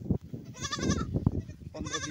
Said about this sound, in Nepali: 15-20 वटा बाख्रा छन्।